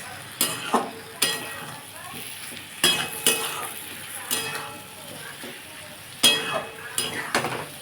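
Potatoes, pointed gourd and prawns are sautéed and stirred in a pan, with a steady soft sizzle broken by repeated sharp scraping strokes of a spatula and occasional clinks against the metal.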